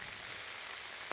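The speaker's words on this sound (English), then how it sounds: "it's hailstone, sleet and sheeting down a fair bit." Hail and sleet pelt a tarp shelter in a steady, dense hiss of close patter, with a brief sharper burst of impacts near the end.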